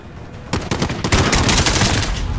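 Loud, rapid gunfire from Call of Duty Modern Warfare, a dense burst of automatic shots crackling in quick succession after a short lull, close and intense.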